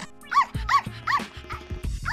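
A small cartoon dog yaps in an animated series, four or five sharp high barks spaced evenly, close and clear with no talk over them.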